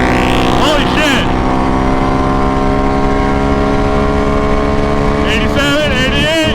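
A tuned 2022 Can-Am Renegade ATV making about 105 horsepower roars loud and close at high, nearly steady revs during a top-speed run, with voices shouting over the engine near the start and the end.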